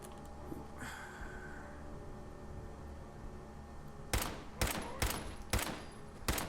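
Gunfire from a gun in Fallout 4: four or five sharp, loud shots in quick succession near the end, following a stretch of low ambient game hum.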